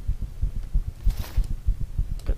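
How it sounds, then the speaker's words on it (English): A video game heartbeat sound effect after using a stim in Saturn 7: steady, low, thumping double beats repeat at a quick even pace, with a brief whooshing swell in the middle. "Get the heartbeat going."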